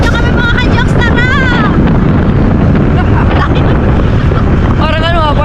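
Strong outdoor wind buffets the microphone in a steady, loud roar that runs through the whole stretch, with voices and cheerful exclamations rising over it at times.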